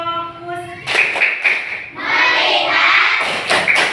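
A class group clapping together in a set rhythmic pattern to regain focus, several sharp bursts of claps in quick succession, loud and close, with a few voices joining in.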